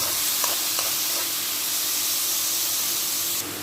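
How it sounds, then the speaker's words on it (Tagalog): Onions sauté in a pan, a loud continuous hiss and sizzle close by with a couple of light stirring taps, easing slightly at the very end. "gisahin natin yung sibuyas"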